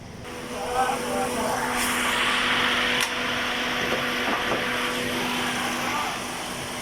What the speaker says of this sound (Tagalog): titignan natin ngayon yung makina, paramdaman natin